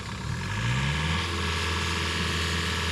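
Engine of a Cooks AC-36 sawmill running steadily, a continuous near, loud mechanical drone with a brief rising whine early on, no talk over it.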